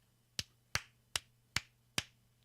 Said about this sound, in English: producer Carl, applauding his potential funding.